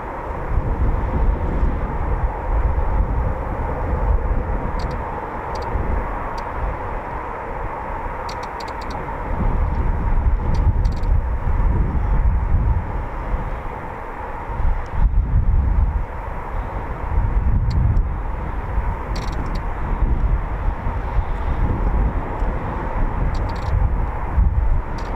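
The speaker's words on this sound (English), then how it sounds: "So they're taxiing back to the main ASP." Eurofighter Typhoon jets of 11 Fighter Squadron taxiing at RAF Coningsby, a continuous loud rumbling engine roar with a steady whine that swells and eases over about twenty-five seconds, with no speech.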